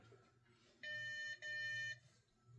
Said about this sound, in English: Now you push these buttons here, you hear little beeps